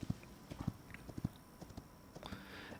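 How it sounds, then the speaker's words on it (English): Horse hooves while riding horseback in Hytale, a quiet, rhythmic clip-clop of soft hoof thuds in a loose pattern, fairly close against light background noise, no talk. "We are riding horseback and exploring some epic lands."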